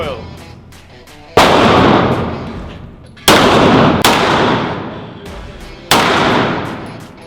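Loud, sharp shots from a WWII German Luger pistol at an indoor shooting range, four separate blasts at uneven intervals, each with a long echoing decay, with faint voices in between.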